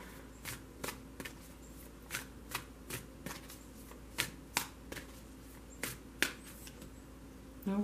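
A Sacred Traveler tarot deck is shuffled close up in a series of quiet, irregular riffling snaps and card slaps, with no talking.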